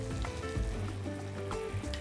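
Beef pieces frying in a pan give a steady, soft sizzle with faint crackling pops, heard close and quiet with no talking.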